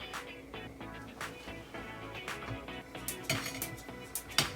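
Hot dog spaghetti, noodles threaded through sliced hot dogs, set onto a plate with a run of light clinks and scrapes of dishware and utensils over a steady backdrop, with a few sharper taps near the end.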